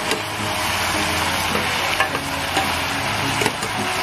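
Mixed vegetables for ginataang gulay are stirred in a sizzling pan, with a constant loud fry punctuated by scattered scrapes and knocks of a utensil against the pan.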